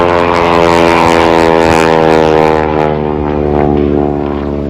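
Propeller stunt airplane looping at an airshow while a wing walker rides out on the wing strut; a loud, steady engine drone with strong harmonic tones swells and eases slightly throughout.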